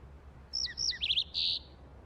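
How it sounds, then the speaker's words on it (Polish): A small cartoon bird chirps a quick series of bright, high tweets and trills, clear and close against faint background hum, with no voices. "nawet ćwierkania nie potrafię teraz zrozumieć"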